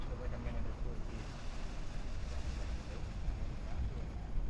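Wind buffeting a recording device fitted with a windscreen, making a steady, close, full rumble that resembles ocean surf. The roar holds constant throughout with no breaks.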